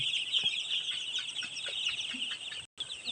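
Five-day-old chicks peeping and cheeping steadily in a brooder, a dense continuous chorus of high thin calls with a brief gap near the end.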